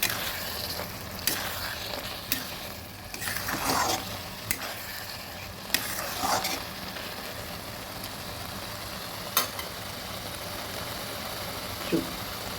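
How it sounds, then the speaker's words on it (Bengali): Hilsa fish head and taro curry sizzles and frying steadily in a pan, with scattered brief clinks and scrapes of stirring over a continuous hiss, moderately close. "ভালোভাবে নেড়ে দিয়েছি, এবার একটু বয়েল হতে দেব।"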